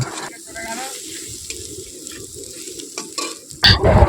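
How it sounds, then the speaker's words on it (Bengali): Chicken with turmeric, chilli and cumin powders sizzling and being stirred in a pan over an outdoor village fire, a steady frying hiss with a louder burst of sizzle near the end. "হালকা কষানো হয়ে গেছে, দিয়ে দিলাম হলুদ গুঁড়ো, লঙ্কার গুঁড়ো, জিরে গুঁড়ো।"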